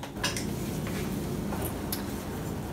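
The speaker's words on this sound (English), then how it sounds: "I'm just going to mince some garlic," Garlic being minced with a knife, a dense, close run of soft chopping taps and clicks on a board over a steady background, with no voices.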